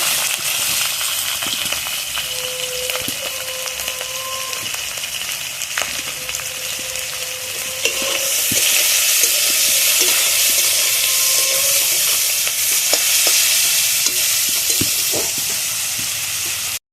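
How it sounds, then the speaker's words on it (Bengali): Shrimp with salt and turmeric fry in hot oil in a village kitchen, a loud steady sizzle with stirring clatter, and the hiss grows brighter and fuller partway through; no one speaks. "আগে চিংড়ি মাছগুলো ভেজে নেবো। চিংড়ি মাছগুলো দিয়ে দেবো, একটু নুন আর হলুদ দিয়ে দেবো।"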